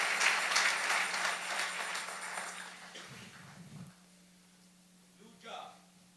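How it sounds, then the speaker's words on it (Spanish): A church congregation claps loudly during a service. The dense applause fills the first few seconds, then fades into a quieter room with a few faint sounds near the end. "Denle un aplauso bien fuerte al Rey"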